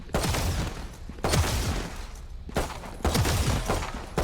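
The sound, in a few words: gunshots in the video game Valorant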